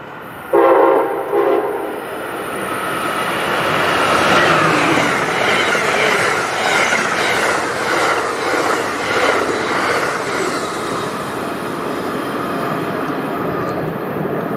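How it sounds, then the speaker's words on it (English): Amtrak Silver Meteor train number 97 sounds a loud horn blast, then rushes through Princeton Junction station at speed, with a sustained roar of wheels and passing cars and faint squeals that fade slightly at the end. "That was Amtrak Silver Meteor train number 97 passing through at 4:11 p.m."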